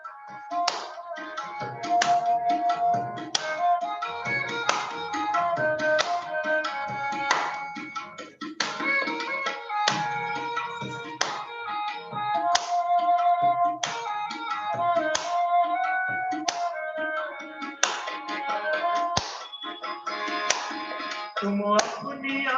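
Rhythmic hand claps and taps at a yoga sadhana session, steady and continuous over a bright melodic musical backing, fairly close and loud throughout.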